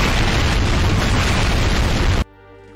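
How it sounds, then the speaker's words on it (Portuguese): A loud explosion sound effect laid over a manga drawing tutorial, a dense roaring blast that holds for about two seconds and then cuts off abruptly to quiet. "Essas explosões são totalmente desnecessárias, né?"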